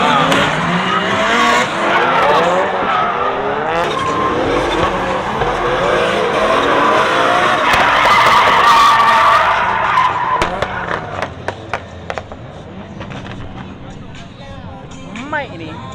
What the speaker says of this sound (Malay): Drift ni memang lain sikit okay.